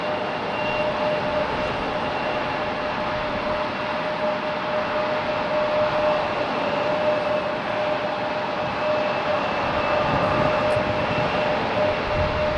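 A Delta Airbus A321neo passes at Raleigh-Durham International Airport, a steady loud jet roar with a faint whine running evenly from start to finish at moderate distance.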